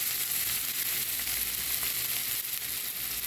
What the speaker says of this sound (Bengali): এখন পেঁয়াজের সাথে আদা রসুন একটু ভেজে নেব